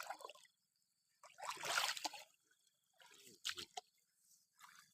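Water spurting in short bursts and trickling, quiet and close, with separate splashy gushes broken by stretches of near silence.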